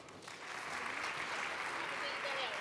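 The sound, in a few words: audience applause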